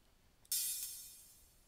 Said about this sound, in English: See how the open hi-hat keeps playing while you press the closed hi-hat?